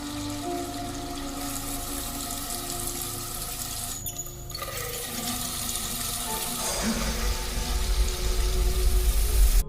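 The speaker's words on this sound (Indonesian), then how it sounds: "satu persatu keran air di ruangan itu tiba-tiba menyala dengan sendirinya. Suara air yang mengalir memenuhi keheningan" Taps running in a morgue as a horror story effect: steady rushing water that swells and grows louder and fuller toward the end, echoing faintly in a quiet room.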